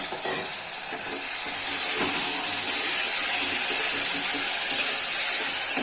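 Mutton pieces hitting a hot pan of ginger paste and masala for a mutton curry, giving a steady, loud broadband sizzle and frying hiss that lasts throughout, with no talking.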